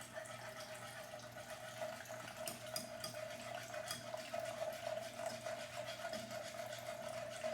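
Water pours steadily into a pan, two cups' worth, a continuous faint trickle with a constant hum underneath, close by and with no talking.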